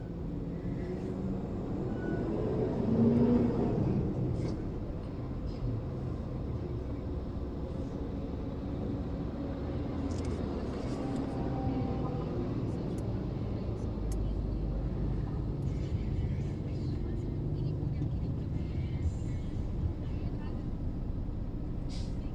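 Road traffic idles and rumbles in a traffic jam, a constant low wash of engines with a brief swell early on, while a person talks intermittently.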